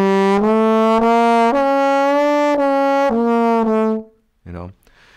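Trombone playing sustained notes with smooth slide glissandi between pitches, loud and close, several connected phrases followed by a brief lower slide at the end.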